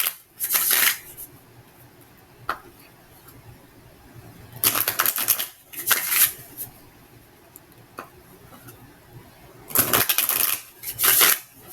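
Playing cards being shuffled up close in several short riffling bursts separated by quiet pauses, with faint taps in between.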